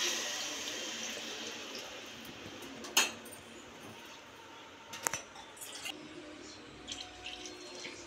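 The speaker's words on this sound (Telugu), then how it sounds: "1కి 1 కప్పు సగము నీళ్ళు పోసుకుంటున్నాను" Water is poured into a Healux cookware pot for cooking basmati rice, a close rushing pour that gradually thins out, with a few light clinks and taps toward the end.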